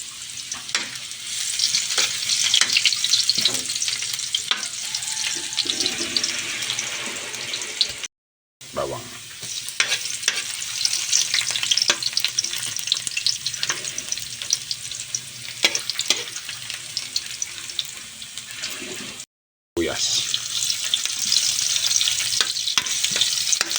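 Ginger fries in a pan until golden brown for chicken feet sinampalukan, a bright continuous sizzle with scraping stirring, cut by two brief pauses.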